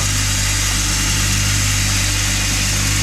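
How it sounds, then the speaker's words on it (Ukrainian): A 2 kW electric motor on a 220 V pellet mill hums steadily throughout with a constant low drone and even mechanical whir, close by and unchanging, with no voices. "тут двигун стоїть 2 кВт"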